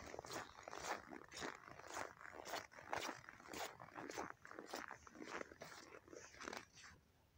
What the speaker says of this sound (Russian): Да ладно тебе, лает.